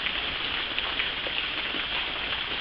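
Steady rain falls in a constant, even hiss on a surface, soft and unbroken throughout.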